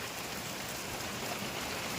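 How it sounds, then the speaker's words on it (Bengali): Heavy morning rain pours down in a dense, steady hiss with no breaks, close and loud. "দেখো কি প্রচণ্ডভাবে বৃষ্টি নেমেছে সকালবেলায়।"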